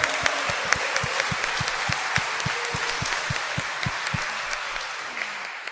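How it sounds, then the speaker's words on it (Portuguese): A church congregation applauds for mothers at Sunday Mass, a dense, steady round of clapping that fills the space with regular rhythmic claps and no talk. "Dê uma salva de palmas para sua mãe também."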